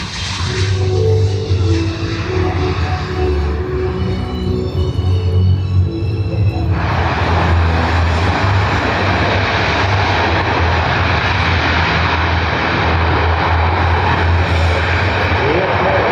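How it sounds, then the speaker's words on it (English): A Boeing C-17 military transport makes a very short-field landing demonstration at the 2024 Dover Airshow. Its jet engines give a loud, sustained roar that swells midway, with an announcer's voice over it. "the crew will demonstrate the very short landing distance of the C-17"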